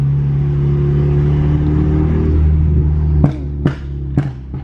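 A tuned BMW F32 428i running E85 with an upgraded intercooler and charge pipe drones and builds in a strong, steady roar under boost, then snaps off into several sharp pops and crackles as it lets off.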